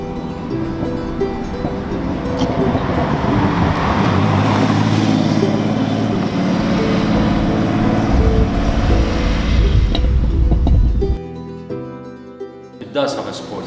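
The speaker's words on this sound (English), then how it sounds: "It does have a sport exhaust, it's not a standard exhaust, so it sounds a tiny bit better than the standard." Porsche 930 Turbo with a sport exhaust driving, a loud close engine drone with rising and falling tones that builds for about eleven seconds, then drops suddenly to a quieter idle-like rumble.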